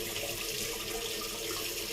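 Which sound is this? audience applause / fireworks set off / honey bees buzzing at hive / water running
water running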